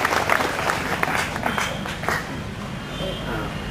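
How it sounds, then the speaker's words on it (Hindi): Audience applause for Additional SP Ashish Bharti at a Bihar Police event, a burst of clapping that starts strong and gradually thins out, with some crowd noise underneath. "मैं चाहूंगा एक जोरदार ताली आशीष भारती सर के लिए होनी चाहिए।"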